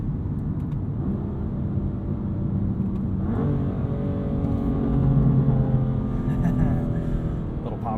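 A BMW M2 Competition with its S55 inline-six and dual-clutch gearbox drones steadily from inside the cabin, engine note climbing slightly as revs build, a continuous low rumble with no speech.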